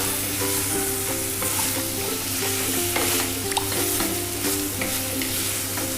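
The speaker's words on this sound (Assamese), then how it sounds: "এয়া আমি প্ৰায় 5 মিনিট এনেকৈ লৰাই লৰাই ভাজিলোঁ।" Continuous loud sizzling of pork stir-frying in a pan, with frequent scraping and clinking of a utensil against the metal throughout.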